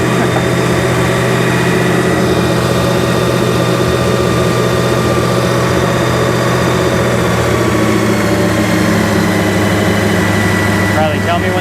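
A 1972 GMC 3500 wrecker truck engine idles steadily with a deep, even rumble, loud and close, holding constant throughout with a brief shift near the end.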